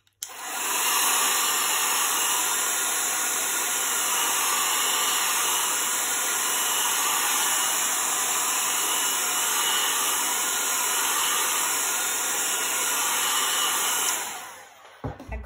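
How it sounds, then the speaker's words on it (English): A hair dryer blows on chalk paste spread on a wooden pallet board, a loud steady whooshing hum that runs unbroken for about fourteen seconds before switching off with a few small clicks. "And then we're going to blow dry it a little bit."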